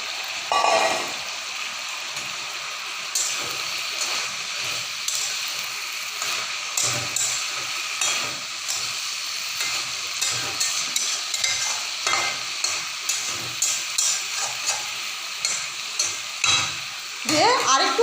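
Lightly fried soybean chunks are stirred in a pan for a mixed vegetable dish: a steady frying sizzle with quick, repeated scraping strokes of a spoon against the pan, close and clear, with no talking.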